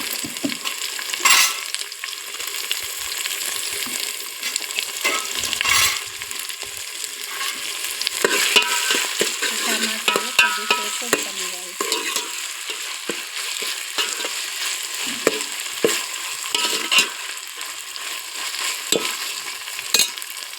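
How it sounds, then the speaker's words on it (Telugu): Fish curry frying and being stirred in a pan over a wood fire, with steady close sizzling and scraping stirs throughout, no talk. "వేసి బాగా కలపాలి కొద్దిగా మగ్గనివ్వాలి"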